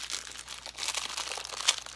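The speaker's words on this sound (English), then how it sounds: "I am just going to take my scissors, I think, and just try to be careful, make sure that I don't cut anything" Plastic wrapping around individually wrapped items crinkles and rustles close by, irregular and fairly quiet, with one sharp crackle near the end.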